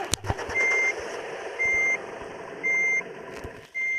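Four evenly spaced reversing beeps sound over a heavy truck engine idling and moving slowly, with a few clunks at the start.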